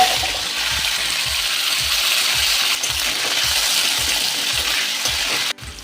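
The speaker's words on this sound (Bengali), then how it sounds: "পনিরটা হালকা ভেজে নিয়েছি" Paneer pieces frying in hot white oil seasoned with bay leaf, cloves, cardamom and garam masala, a steady close sizzle and crackle with a faint rhythmic ticking, no voices.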